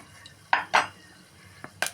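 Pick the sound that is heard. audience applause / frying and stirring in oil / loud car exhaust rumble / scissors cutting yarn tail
frying and stirring in oil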